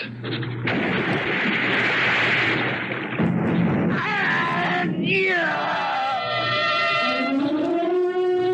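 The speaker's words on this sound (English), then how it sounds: "I thought I heard the roar of a heavy weapon, like an old-fashioned cannon" A heavy old-fashioned cannon roar blasts out loud and dense, giving way to wailing, sliding tones that carry on to the end.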